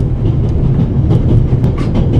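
A train rolls on rails in the video game The Raven Remastered, a loud, continuous low rumble with light clattering on top and no voices.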